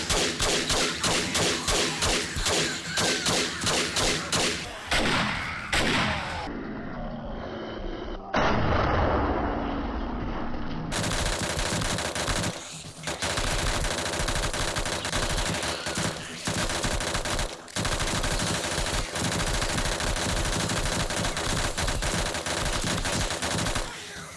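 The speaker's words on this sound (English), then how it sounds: "I'm going to try and focus the rest of the AK ammo onto radiated zombies." AK rifle gunfire in the 7 Days To Die video game, loud continuous automatic bursts with a brief pause, then sustained heavy firing against zombies in a woods cabin setting.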